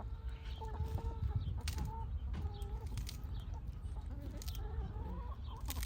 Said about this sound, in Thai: ไก่ก็มีหลาย